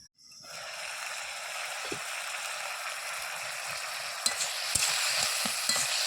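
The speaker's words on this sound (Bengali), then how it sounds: "এটাকে ভালোভাবে মিশিয়ে নেব।" Chili powder and chopped tomato fry in a pan and are stirred, a steady sizzle rising after a quiet opening, broken by a few sharp spoon scrapes and knocks near the end, with no voices.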